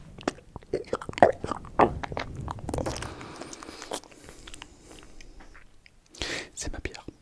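Crunchy biting and chewing close to the microphone in an ASMR setting, a burst of sharp crunches followed by softer mastication, with whispering and quiet talk around it.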